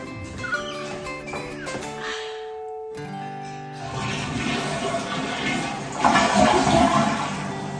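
A newly installed toilet in a farmhouse bathroom flushing, a rushing swirl of water that builds and grows louder toward the end, heard over some faint background sounds.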